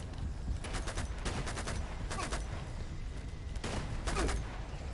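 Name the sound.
gunfire in video game Uncharted 2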